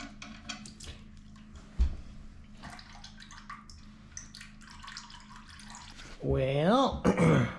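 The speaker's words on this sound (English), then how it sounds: "I want to dump some diesel fuel down there and rotate the engine" Diesel fuel is poured down into the engine of a salvaged Kubota diesel tractor with a cracked block, giving a close, uneven trickling and splashing, followed by a louder burst of voice-like sound at the end.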